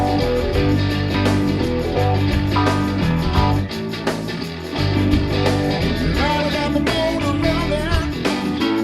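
Unmixed multitrack band recording played back dry in Pro Tools, a dense continuous wash of drums, bass and guitars with steady loudness and hits throughout, no processing or voices.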